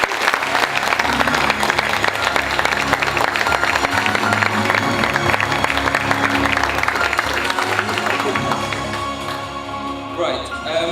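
Dense, sustained applause from a gathered audience at a charity running service, loud and steady for about ten seconds before tapering slightly at the end.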